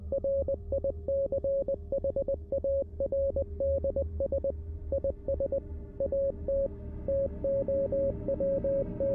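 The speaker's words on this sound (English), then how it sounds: "there is a lot of Morse code, which I do not understand Morse code at all" Morse code beeps in the Roblox game Specter sound as a steady stream of short and long electronic tones in rhythmic groups, sustained throughout over a low background hum.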